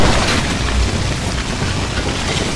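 Shotgun fire in the zombie shooter Dead Nation, a loud, booming, noise-filled roar that stays dense and steady for a couple of seconds without clear gaps between blasts.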